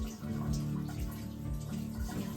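Tap water runs steadily over vegetables being washed in a kitchen sink, a soft, continuous splashing with small shifts as the produce is moved under the stream.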